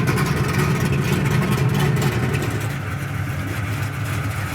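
A 1968 Camaro SS V8 idles with its exhaust switched to a quieter mode, producing a steady, close, low rumbling burble that eases slightly in loudness toward the end.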